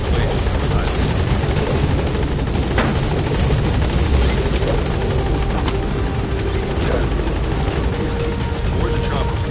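A helicopter in Metal Gear Solid V: The Phantom Pain drones loudly and continuously nearby, its steady rotor roar filling the whole stretch without letup.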